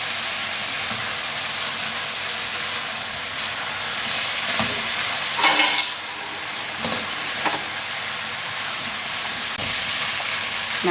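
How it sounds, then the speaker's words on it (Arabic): Peas and carrots fry with softened onions in a pan, giving a constant close hissing sizzle broken by scraping stirs and a brief louder burst partway through, with no voices. "اول ما البصل دبل نزلت بالبسله والجزر"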